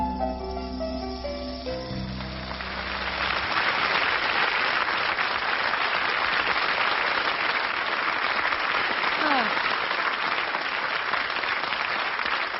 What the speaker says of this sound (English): that's the sound I love to hear, is applause